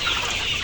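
Layer hens on a poultry farm cluck in a brief, steady flock murmur, close and fairly loud, with no voices over it.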